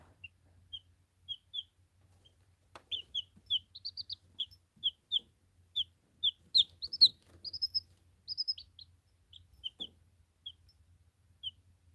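Young chicks peep and chirp in short, high calls, scattered and fairly quiet against a near-silent background.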